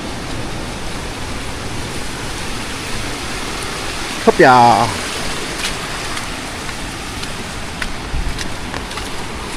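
Heavy nonstop rain falls after a typhoon, a steady dense hiss throughout, while a voice briefly cries out partway through.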